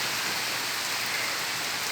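Gentle, steady rainfall hisses evenly and continuously, a soft, close wash of drops on surfaces with no other sounds.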